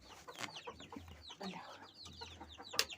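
Hens cluck and squawk in a busy overlapping chorus, with a sharp louder cry near the end and faint voices in the background.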